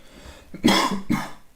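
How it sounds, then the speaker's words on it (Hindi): Two harsh coughs from a lecturer during a lecture, close to the mic, the first longer and rougher, the second a short follow-up burst, with no talking. "खांसी ज़्यादा आ रही है आज।"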